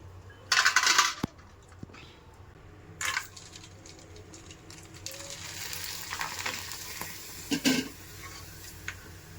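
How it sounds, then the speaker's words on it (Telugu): Papads frying in hot oil on a gas stove, giving short bursts of crisp crackling sizzle near the start and again midway, with a few light clinks in between and a quiet background. "సో మనం అట్టిగా తినము కాబట్టి పాపడాలు వేయించుకుందాం."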